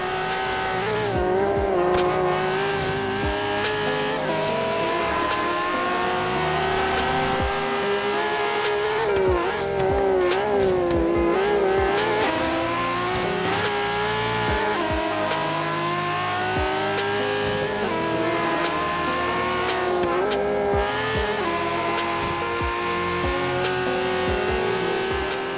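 Turbocharged Nissan Skyline GT-R R32 with a 700 hp build, racing online in Forza Horizon 3: a loud, continuous engine roar with rising and falling revs, turbo whine and tire squeal, carrying steadily through the whole stretch with no talk.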